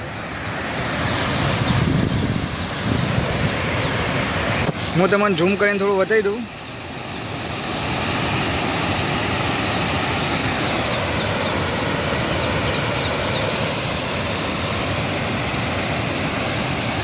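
Water pours through an open gate of the Mokeshwar dam, a loud steady roar of rushing water with wind buffeting the microphone, and a person speaks briefly over it near the start.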